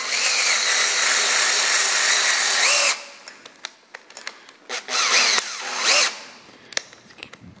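A power drill drives a screw extractor into a workpiece, whining steadily at full speed and then dropping into short, stuttering bursts and brief revs as the bit catches and breaks through.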